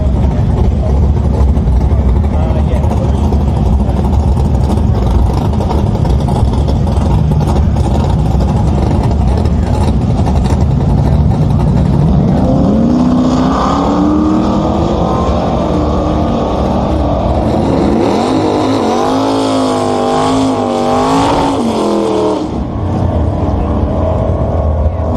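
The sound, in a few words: car burnouts at drag racing raceway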